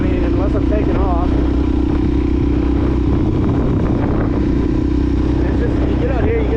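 A 2020 Suzuki DRZ400 SM supermoto with a Yoshimura exhaust riding along a beach at night, its engine a loud, steady, close drone with rough, wind-buffeted texture throughout.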